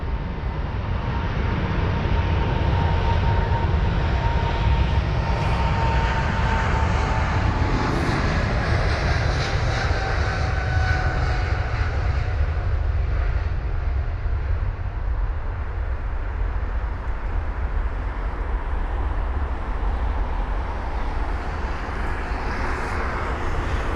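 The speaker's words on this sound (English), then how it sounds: "flight number AA39 for the American Airlines. 777-300ER heading to Miami" An American Airlines Boeing 777-300ER takes off from London Heathrow on a flight bound for Miami. Its engines hold a loud, broadband roar for the whole stretch, with a steady rumble and a whine that slowly falls in pitch as the jet passes close by.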